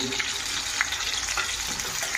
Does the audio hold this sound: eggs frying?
yes